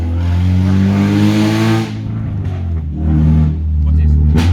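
A Honda Civic Type R fitted with an M2 Hornet exhaust revs hard in loud, droning bursts, easing off briefly between pulls before climbing again, with voices mixed in.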